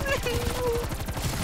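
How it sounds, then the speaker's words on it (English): Rapid gunfire in Call of Duty Cold War, a dense machine-gun rattle of quick repeated shots filling the moment, with a voice over it. "They're shooting me!"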